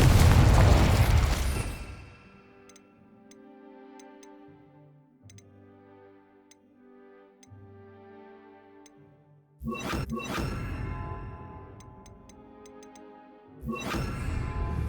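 Confringo blasting spell from the Hogwarts Legacy video game: a loud burst opens, fades into a quieter ringing, tonal stretch, then two more heavy blasts strike near the end, each followed by a crackling rumble.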